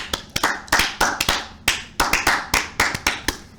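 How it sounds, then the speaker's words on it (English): Hands clap in a quick, uneven run of about a dozen sharp claps, close and loud, celebrating the end of a Dallas Cowboys NFL season during a live reaction to a game against the Philadelphia Eagles. "We get a Jason Garrett clap at the end of the season."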